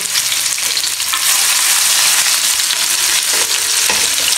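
Finely chopped onion fries in hot oil in a pan, a loud, steady, close sizzle that crackles throughout with no voices.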